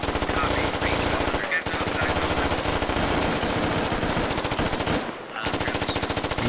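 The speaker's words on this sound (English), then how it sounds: "These forces kind of just blindly firing here, so Harv and Mitzelok can get up the hill." Sustained automatic gunfire in the video game Squad, loud and continuous with rapid bursts from several weapons, a brief gap near the middle, and no talk over it.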